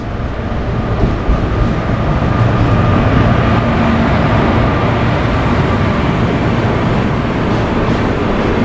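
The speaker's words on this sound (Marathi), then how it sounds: "आपली ट्रेनसुद्धा आली हे बघा ही आली आपली ट्रेन" A train rolls in with a loud, continuous rumble and clatter that holds steady throughout, with no voices.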